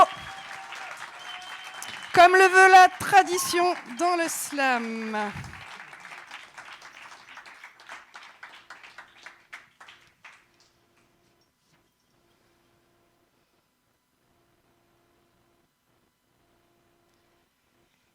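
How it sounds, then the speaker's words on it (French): Audience applause at a national slam poetry final greets the poet Bohème as she walks to the microphone. It starts under a speaking voice, then thins into scattered, decaying claps and fades out by about ten seconds, followed by silence. "On l'applaudit, on l'encourage, jusqu'à ce qu'elle soit derrière le micro"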